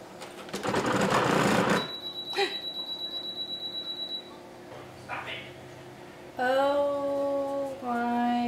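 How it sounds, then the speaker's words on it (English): A sewing machine stitches fabric for a homemade laptop case pouch in short close bursts of rapid, steady clatter, separated by pauses, with some faint beeping and a person talking at moments. "So I need to sew the bottom and then the two sides together."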